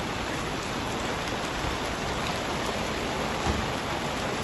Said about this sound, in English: it just started to rain just a few minutes ago. See the water hitting the puddles